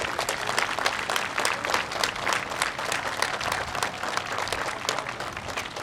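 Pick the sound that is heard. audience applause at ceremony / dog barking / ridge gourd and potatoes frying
audience applause at ceremony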